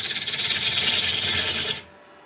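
A carbide tool shears into a wooden bowl spinning on a lathe, a bright continuous rasping hiss for under two seconds that stops abruptly as the cut lifts off.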